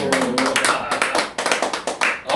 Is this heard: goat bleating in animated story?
no